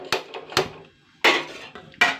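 A metal tava griddle is set down on a gas stove, producing four sharp, ringing clanks in uneven succession, loud and close, with quiet gaps between them and no talking.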